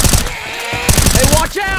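Weapon reloading in the Left 4 Dead 2 video game: short mechanical clicks and ratcheting clacks, close and fairly loud, amid game noise and brief voice-like effects.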